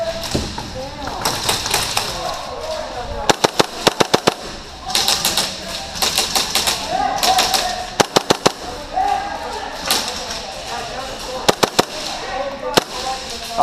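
Bursts of rapid sharp cracks from a KWA MP7 airsoft gun at an outdoor airsoft game, several short strings of shots spread through, with people talking and moving nearby between and under the firing.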